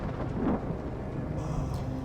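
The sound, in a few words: thunderstorm in Detroit: Become Human video game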